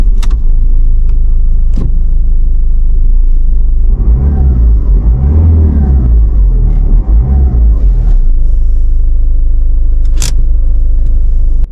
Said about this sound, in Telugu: ఇంజన్ సౌండ్ అయితే చూడండి